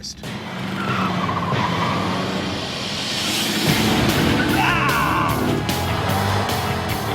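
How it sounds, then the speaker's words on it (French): A car driven fast between traffic cones roars steadily with tires squealing and skidding throughout, loud and close, while someone speaks over it. "Dès le départ, Jamie roule à une allure très soutenue entre les cônes."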